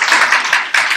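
A short burst of audience applause at the close of a talk, with dense, even clapping from a small crowd filling the whole second at steady volume.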